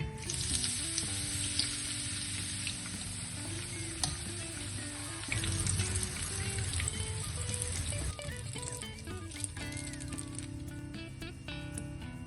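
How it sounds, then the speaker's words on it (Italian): Eggplant slices crackle and sizzle in hot frying oil, a loud continuous spitting hiss with scattered pops and a few soft clinks of a utensil, kept up for several seconds. "Ho portato l'olio a temperatura ed ora cuociamo le melanzane."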